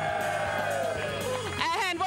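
A crowd at a grassroots Portland FC club gathering cheers and whoops for a player's goal, a dense, continuous burst of mixed voices and shouts that swells near the end.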